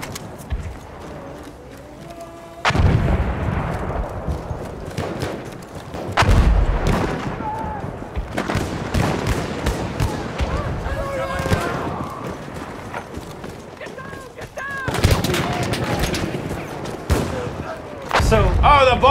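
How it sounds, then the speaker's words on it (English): Bombs burst and guns fire in the Battlefield 1 video game: heavy booming explosions land at intervals with crackling gunfire between them, while voices come and go over the battle. "Bombs just hit, clearly."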